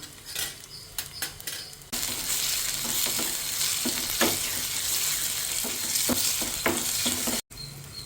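Three broken dried red chillies tempered in hot oil for a milky tapioca dish: a steady, close sizzle of frying with occasional stirring scrapes and utensil clinks, continuing without voices until a brief cut near the end.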